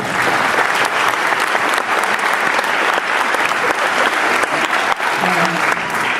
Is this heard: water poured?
no